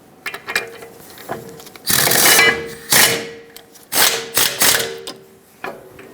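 Wrench tightening the rear wheel bracket bolts on a 2008-2020 Dodge Grand Caravan during an ABS speed sensor replacement, heard as a series of short mechanical ratcheting and grinding bursts of varying length, close by, with no talking.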